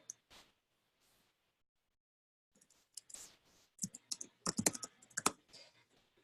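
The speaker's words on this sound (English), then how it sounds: "we're all kind of typing in this doc together" Bursts of computer keyboard typing, with scattered quick key clicks early and then denser, louder clusters of keystrokes later, no voices.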